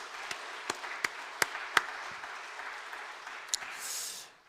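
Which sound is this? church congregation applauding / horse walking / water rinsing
church congregation applauding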